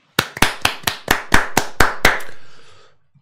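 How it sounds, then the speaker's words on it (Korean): A few people clap on cue about nine times in a quick, even rhythm. The claps are loud and close, and they stop sharply, leaving a short fading tail. "박수"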